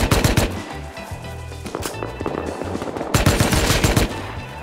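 Gunfire crackles during a fight in the video game Rust, with rapid automatic bursts and single shots layered loud and close, nearly continuous across the moment.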